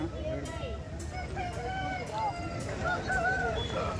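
Country chickens cluck and a rooster crows at the Kundarapalli chicken market, several birds calling close by over a busy outdoor hubbub with people talking in the background.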